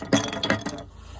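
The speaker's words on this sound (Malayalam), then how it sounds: "കുറച്ച് ഐസ് ക്യൂബ് പൊട്ടിച്ചിട്ട് കൊടുക്കാം." Crushed ice cubes drop into a small mojito glass for a homemade cola drink, making three quick close clinks and rattles in just over a second before the sound fades away.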